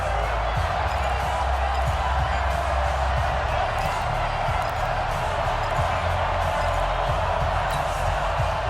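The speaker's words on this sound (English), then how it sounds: "the crowd getting into it as we come up on a big 3rd down" Football game crowd cheering ahead of a big third down with the Vikings on offense, a steady loud roar of stadium noise throughout with a deep rumble underneath.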